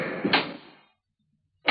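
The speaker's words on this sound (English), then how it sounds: "Here, I'll open the door for you." A car door shuts with a firm, close thump followed by silence, and another thud begins just at the end, staged in an old radio mystery drama.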